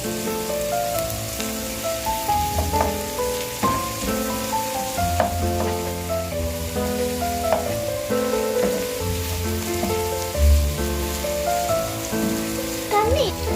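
Chopped onions for fried rice sizzling steadily in a hot pan, with scraping stir strokes against the metal and a constant crackling hiss throughout, close and fairly loud with no talking over it.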